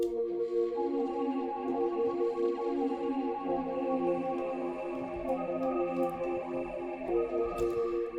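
A movie piano keys sample from Analog Lab plays a basic chord progression, steady sustained chords with soft ticking texture, quiet and alone without any voices.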